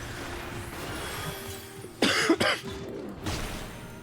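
A person coughs close to the mic during a game session: one loud, harsh cough burst, a second quick one right after, then a softer exhale, with no talking.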